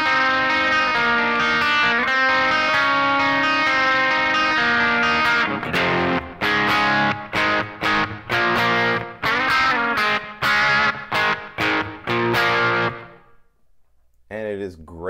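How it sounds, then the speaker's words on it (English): Electric guitar played through a Kemper profile of a cranked Twin-style amp on a clean-ish setting, ringing chords and then choppy, rhythmic stabs with short gaps before the sound stops. "I'm using my cleanish Carol Ann, which is sort of like a cranked up twin"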